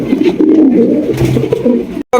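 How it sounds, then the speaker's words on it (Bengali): Rajshahi Giribaz pigeons at a pigeon farm coo close and loud in low, rolling throaty phrases that continue almost without break until a brief gap at the very end. "এখানে রয়েছে একজন রাজশাহী গিরিবাস কবুতর"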